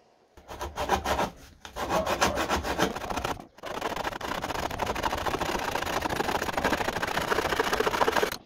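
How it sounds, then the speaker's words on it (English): A hand saw cuts a small square out of the end wall of a plastic DeWalt TSTAK tool organiser, with a few short scraping strokes, a brief pause, then a long run of fast, rhythmic rasping strokes close by. "I have to cut a little square out of the end of this wall"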